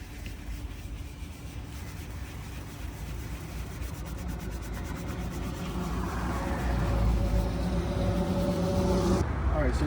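A soft bristle brush scrubs a leather car seat with continuous close rubbing strokes, a steady brushy friction sound that grows slightly louder partway through and stops abruptly near the end.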